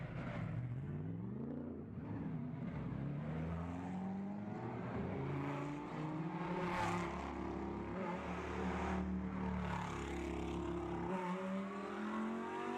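Race cars in the Lightweight Cup at Bathurst rumble and rev as they roll out to the grid, a continuous layered engine drone with rising and falling tones throughout, fairly loud and close with no talking.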